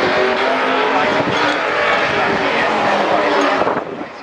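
A 1970 Dodge Daytona race car at the Goodwood Festival of Speed roars past close by, a loud sustained engine howl with slight tire noise that fades at the end, with a commentator talking over it.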